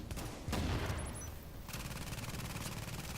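Automated turret in The Division firing continuous bursts of gunfire at close range, a dense, rapid rattle with a brief high electronic chirp partway through.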